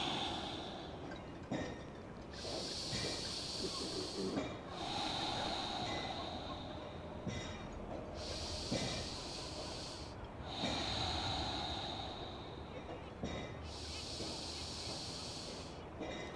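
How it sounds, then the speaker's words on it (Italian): Slow, deep belly breaths during a yoga pranayama session, with long airy inhales and exhales alternating in a steady rhythm, close and fairly loud, with no voice over them. "manda bene il respiro nella pancia"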